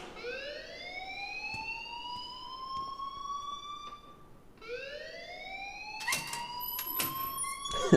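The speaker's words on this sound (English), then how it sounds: "please turn off that alarm since that's your job" An alarm rings in the video game Life is Strange, a loud rising siren-like wail sweeping upward twice in long strokes, followed by sharp electronic bursts near the end, with no speech.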